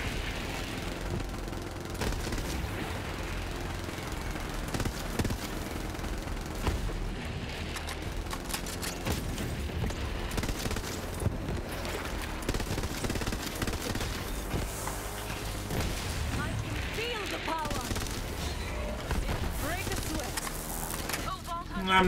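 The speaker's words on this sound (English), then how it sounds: "It's burst fire." Burst-fire rifle shooting in Borderlands 3, repeated short volleys with booms and combat noise throughout, loud and continuous, with a voice talking over the action.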